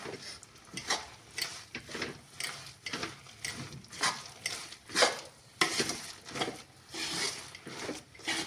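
A spoon working a thick dry fruits barfi mixture around a kadhai, giving steady scraping strokes about once a second with a faint sizzle underneath, close and moderately quiet.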